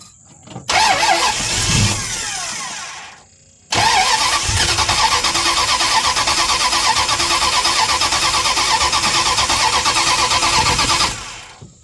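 A 1973 Dodge Dart engine with a dry fuel system cranks hard for a few seconds and stops. After a short pause it cranks again, catches and runs at a loud, steady rough idle up close before cutting off.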